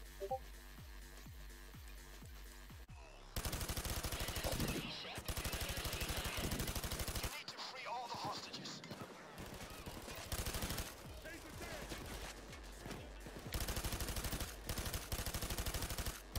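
Long bursts of rapid light machine gun fire in Payday 2, loud and close, broken by short pauses and quieter stretches of game noise between the streams of shots.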